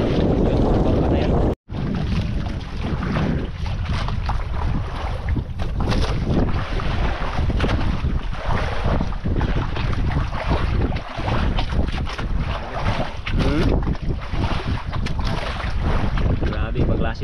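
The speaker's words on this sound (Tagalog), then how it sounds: "Yun, bangka na yan." A small wooden outrigger fishing boat rides rough sea waves, with a constant wind roar and water wash battering the microphone while people talk nearby.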